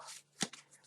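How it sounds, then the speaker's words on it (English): A single quick riffle of tarot cards, a sharp burst of papery flutter, close and brief, with soft rustling before and after. "So I shuffle cards"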